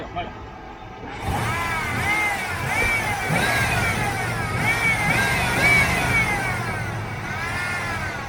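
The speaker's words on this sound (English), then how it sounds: "Why don't you jump in there and rev it?" A supercharged V8 engine revs up and down repeatedly nearby, its rising and falling whine layered over a rumbling idle, while people talk over it.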